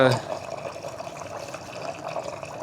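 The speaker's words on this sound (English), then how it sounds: "let's run the kitchen sink" Water runs from a kitchen sink tap into the drain, a steady soft splashing and trickling after a brief louder start, fairly quiet.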